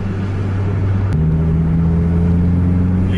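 A remapped Scania bus engine revs hard, its loud low roar stepping up in pitch partway through and holding steady at higher RPM.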